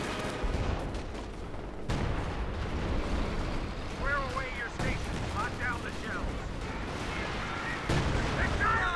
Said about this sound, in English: More barrages there from the infantry guns